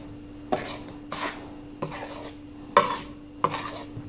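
A spoon stirs turmeric, thyme, garlic, onion and paprika into a chicken marinade in a bowl, giving five separate scraping, clinking strokes with brief pauses between them, close up and with no voices.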